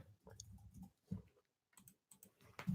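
A computer keyboard clicks faintly in a few quick, irregular bursts of keystrokes with short gaps between, close but very quiet, with no talking.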